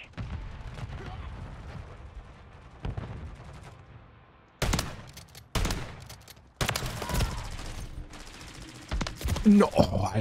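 Lockwood 680 shots in Modern Warfare III multiplayer: a few sharp, isolated gunshot blasts with ringing tails, spaced seconds apart, over quieter background game noise and a voice talking.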